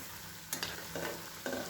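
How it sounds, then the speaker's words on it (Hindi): Rice chips frying in hot oil over medium heat, a steady quiet sizzle punctuated by a few sharp clinks and scrapes as they are turned, with no speech. "और ये चिप्स इसमें डाल देंगे और इन्हें फ्राई कर लेंगे।"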